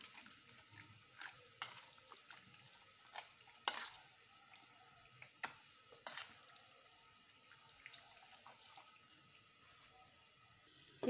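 A spoon scrapes and taps against a pan of fried onion masala with turmeric and salt, making quiet irregular clicks and soft sizzling through a near-silent kitchen.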